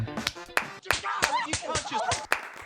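Several sharp, close hand claps land among overlapping talk and laughter on a podcast, spaced irregularly and loud against the voices.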